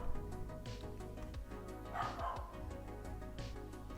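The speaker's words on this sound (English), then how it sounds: "Please ignore my dog." A house dog yaps and barks in several quick bursts, close by, mixed under ongoing background music and a voice.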